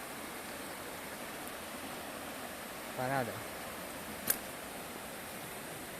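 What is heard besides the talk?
river water flowing below a railway embankment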